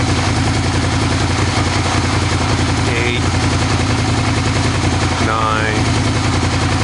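An engine idles steadily, a continuous low mechanical hum with a few brief higher noises over it, loud and close throughout.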